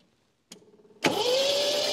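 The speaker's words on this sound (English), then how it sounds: "Go ahead and crank it a little bit." A 1979 MGB engine is cranked over by its starter: a click, a short run of rhythmic chugging pulses, then a loud, steady whirring rush with a rising whine, close by with no talk.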